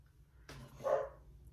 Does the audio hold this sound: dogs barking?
yes